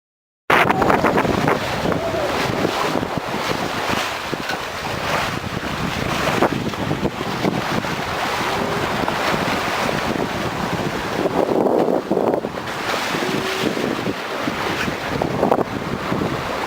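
A sailboat under way on the open Atlantic near Praia, bound for the Antilles, with strong wind buffeting the microphone, waves washing against the hull and a continuous loud rushing roar throughout.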